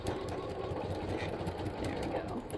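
A sewing machine stitches across a quilt block square, a quiet steady rapid whirring with a faint knocking rhythm, heard alone and close up.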